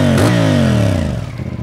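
A CF Moto 450CL-C motorcycle engine revs up sharply and then winds down, a loud close growl with rising then falling pitch and a rough, throbbing exhaust note, no talk over it.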